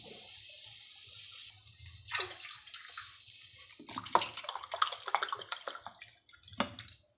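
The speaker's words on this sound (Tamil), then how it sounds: "இன்னொரு அரை கப்புக்கு ஒன்றரை கப்பு தண்ணி விடணும்" Water poured from a cup into a pan for rice upma in a home kitchen, arriving in a few gushing splashes separated by short quiet gaps, close by and with no talking.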